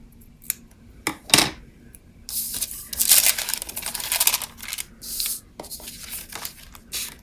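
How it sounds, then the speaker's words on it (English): Scissors cut a paper planner insert in half, with a few sharp snips followed by longer rasping cuts and crinkling of the paper, close and clear with no talk. "then I'm going to cut it kind of in half"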